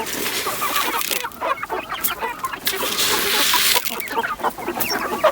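Chicks and hens clucking in a morning poultry yard, a busy close chorus of overlapping clucks and peeps with occasional louder calls.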